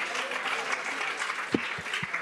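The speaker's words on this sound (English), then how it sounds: "Je pense que vous pouvez vous applaudir aussi" Steady clapping from an audience at an architecture lecture given by a university professor, a short dense patter of applause with a few low thumps near the end.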